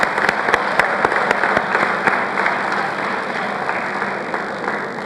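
An audience applauds as university rankings are announced at an event on corruption risk in Nigerian higher education, loud rapid clapping from many people with sharp individual claps standing out early, then settling into a steady, slightly fading ovation.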